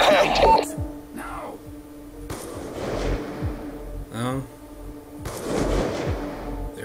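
Gunfire in the Call of Duty: Black Ops 2 Panama mission, several sharp shots with rumbling tails at spaced intervals against game ambience, one burst with a rattling echo mid-way, loud and close.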